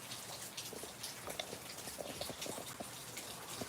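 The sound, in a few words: rain falling on a patio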